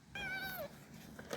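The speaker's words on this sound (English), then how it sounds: "these cats won't leave me alone" A cat lets out a single drawn-out meow with a falling end, close and clear, then quiet room tone with a faint hint of another call at the very end.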